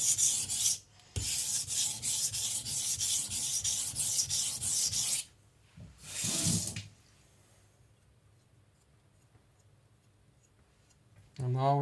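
Close, raspy strokes of fingers rubbing the burr on a kitchen knife edge repeat in a quick rhythm, pause, then return briefly before quiet; a voice speaks at the end.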